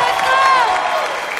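Applause from a television singing contest audience, a dense steady wash of clapping and crowd noise that stays loud throughout, with a sung or spoken voice carrying over it.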